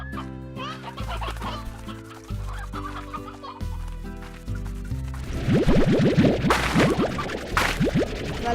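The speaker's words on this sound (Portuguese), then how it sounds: "Frango para comer." Chickens in the video game Slime Rancher cluck in quick, choppy bursts that grow denser and louder toward the end, over steady synthetic game music.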